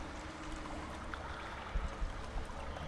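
Water ripples and sloshes steadily as a character wades through water in the video game Call of Cthulhu, a soft continuous gurgling wash with a few heavier splashy pulses near the end.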